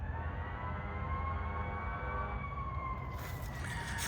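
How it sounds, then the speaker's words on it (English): Emergency vehicle sirens wail in a city street in Lowell, Massachusetts, their steady rising and falling tones faint and distant over low traffic rumble, with no talking. "when you hear the sirens"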